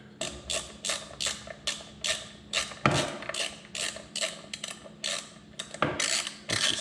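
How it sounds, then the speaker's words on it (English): A ratchet wrench turns a snorkel fitting on a Can-Am Outlander 850 XMR ATV, producing about a dozen evenly spaced, close clicking bursts in a steady back-and-forth rhythm, with no one talking. "let's go ahead and get it on the ratchet"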